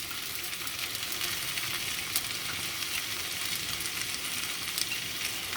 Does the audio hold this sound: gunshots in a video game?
no